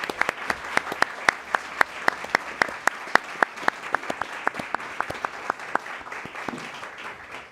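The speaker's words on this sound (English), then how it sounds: "let's give him another round of applause" A small audience at a city council meeting applauds a bookmark contest winner: crisp, evenly spaced claps that sound like only a few people, holding a steady beat before thinning out toward the end.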